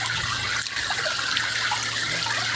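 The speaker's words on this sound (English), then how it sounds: "Go over to the waterfall here." Small freshwater waterfall flows with a continuous, loud rushing splash close by, steady throughout, with a low hum beneath and no talking.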